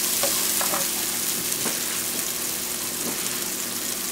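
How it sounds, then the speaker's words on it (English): Chopped onions and garlic sauté in a pan for a braised beef brisket, giving a steady close sizzle with a few soft stirring scrapes and no talk. "we want to saute those for just a little while until the onions start to get"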